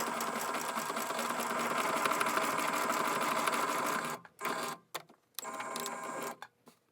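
Sewing machine stitching the casing hem of a cloth scrub bag, a steady close whirring run for about four seconds, then several short stop-start bursts as the stitching pauses and resumes.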